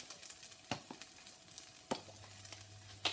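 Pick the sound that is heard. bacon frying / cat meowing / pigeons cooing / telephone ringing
bacon frying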